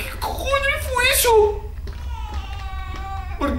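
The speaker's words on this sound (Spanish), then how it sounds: "¿Por qué oigo niños llorando?" Children's crying voices in the horror video game Amnesia: A Machine for Pigs, eerie wavering wails and whimpers heard alone, fading and then returning more faintly, with an unsettled echoing quality.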